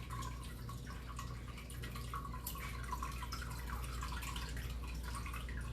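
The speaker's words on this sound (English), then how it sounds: "We're going to pour 2 cups of the pineapple juice." Pineapple juice pours steadily into a container in a continuous trickling, dripping stream, close and fairly quiet, with no talk.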